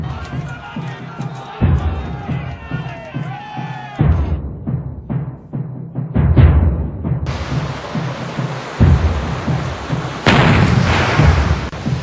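Heavy booming artillery cannon blasts go off repeatedly amid a dense battle-like din, with deep thuds and crackling bursts layered over sustained noise.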